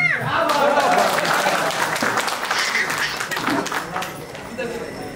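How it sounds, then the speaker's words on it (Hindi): Applause from the crowd at a film trailer launch, loud and dense at first and slowly easing, with voices talking over the clapping. "जोरदार तालियां हो जाए दोस्तों।"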